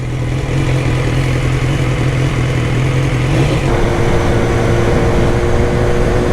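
A naked sport motorcycle's engine drones steadily while heavy wind blast roars over the rider at speed, loud and continuous, and the engine pitch shifts partway through.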